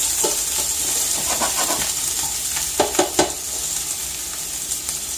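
Mushrooms sizzle as they cook down in a pan, a constant close frying hiss broken by several sharp scraping stirs of a spatula near the middle.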